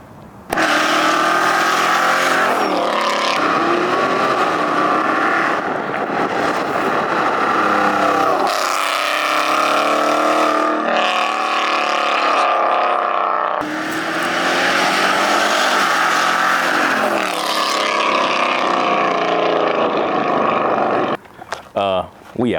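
A Dodge Challenger R/T with headers fitted and no tune is driven hard, its engine roaring loudly and continuously with rising and falling revs across the whole run, then cutting off abruptly near the end.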